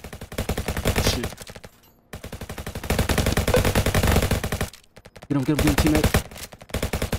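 Rapid SMG fire in a Roblox first-person shooter, loud bursts of automatic shots in several volleys with short pauses between, while a voice talks over it.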